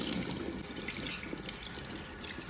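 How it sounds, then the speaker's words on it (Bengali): Steady tap water runs into a sink while someone washes their face, a continuous close splashing flow with a few drips mixed in, no voices. "একা একা কিভাবে মুখ ধুয়ে রাখছি"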